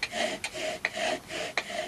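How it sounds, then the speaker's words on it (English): A bow drill spins against wood to make fire, giving a faint rhythmic rasping rub that comes in back-and-forth strokes with short accents at each reversal. "And he invented the bow drill"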